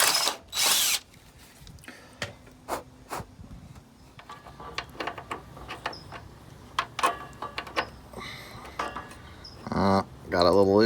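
A power drill boring holes into a Jeep Wrangler body, with several short bursts of whirring spread across the clip among clanks of handling, all fairly close.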